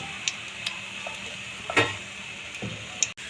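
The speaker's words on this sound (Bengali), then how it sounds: "উল্টে দেবো এক পিঠ করে, লাল লাল করে ভাজার জন্য ছেড়ে দেবো আবার কিছুক্ষণ" Pitha cakes made with nolen gur frying in oil, a faint soft sizzle under a few light ticks and clicks of a spatula turning them.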